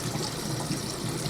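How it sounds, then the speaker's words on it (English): Tap water runs steadily into a kitchen sink as pasta is drained into a colander, a continuous soft splashing rush with no voices. "if my son would turn the tap on, what we're going to do is we're going to drain the pasta"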